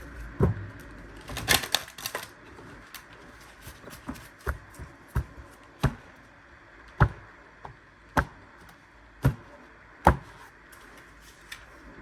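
Oracle cards being shuffled and handled: a burst of riffling near the start, then a series of sharp, separate card taps and snaps spaced about a second apart, close and fairly quiet with no talking.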